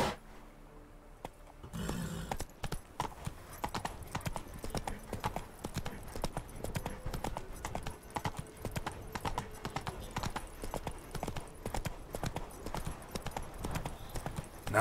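Roach the horse in The Witcher 3 gallops with rapid, even hoofbeats that begin after a short quiet opening and carry on steadily to the end, moderately loud over faint background sound.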